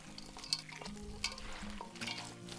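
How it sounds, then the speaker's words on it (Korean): Fresh greens and salmon being gently tossed together by hand for a summer young-cabbage kimchi, with soft rustling, squelchy mixing and light clicks against a bowl, close and steady over a low background hum. "살살 버무려 주시고."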